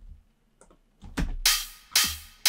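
A few soft clicks are followed by three bright, washy hits of an open hat layered with a shaker-like 909 hat, processed with reverb and EQ in Ableton, ringing out alone in a steady rhythm.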